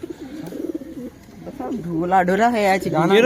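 Low pigeon coos sound close by, soon joined and partly covered by people talking.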